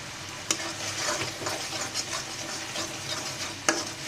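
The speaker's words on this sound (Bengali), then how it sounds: "সুন্দর করে মশলাটাকে ভালো করে কষিয়ে নিতে হবে তেল ওঠা পর্যন্ত" Spice paste with turmeric and chili powder stir-fried in oil for an eggplant dish: a continuous close sizzle broken by repeated scraping stirs and two sharp spoon clanks against the pan.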